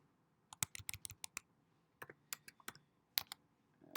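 Uneven bursts of keystrokes on a computer keyboard, clicking in short irregular runs with brief pauses between them, close and fairly quiet, no voices.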